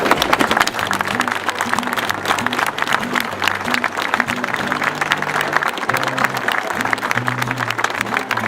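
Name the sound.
minute of applause in memory of runner Patrick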